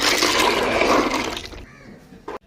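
Clams are rinsed in a pot of water, sloshing and splashing for a moment, then quieting to a faint trickle, ending with a brief clatter.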